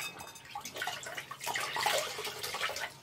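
Water splashes and trickles as a woman rinses skincare product off her face and neck with warm water scooped from a bowl, close and continuous with irregular splashes and drips.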